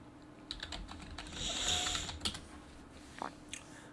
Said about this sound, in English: I'll type it in chat for you